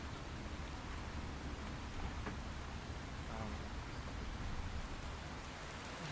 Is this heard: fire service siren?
no